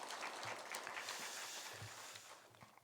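Faint, distant applause from a church congregation welcoming someone, a soft steady patter throughout with a few low thumps.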